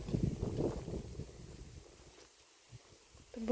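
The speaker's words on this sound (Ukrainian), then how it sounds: "Вітер дує." Wind gusts across an exposed hilltop, buffeting the microphone with low rumbling bursts that fade into a quieter lull before another gust rises at the end.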